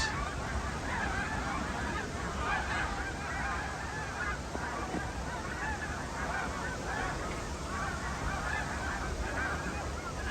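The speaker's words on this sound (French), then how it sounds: "Le départ des oies blanches." A large flock of snow geese honks continuously as the birds take off together in autumn, a dense, loud chorus of overlapping calls that fills the scene without pause.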